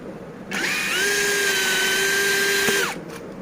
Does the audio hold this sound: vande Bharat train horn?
no